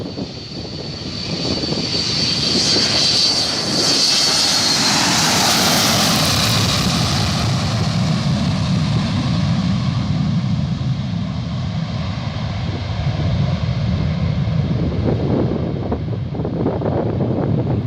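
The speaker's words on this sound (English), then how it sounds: "This Boeing 727 pilot couldn't wait to retract the landing gear." Boeing 727 jet taking off, a loud roaring engine rush with buffeting wind noise that builds and sweeps past, then stays steady and heavy as the landing gear retracts.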